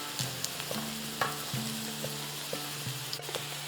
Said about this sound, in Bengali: এরপরে পেঁয়াজটাকে একটু লালচে করে ভেজে নেব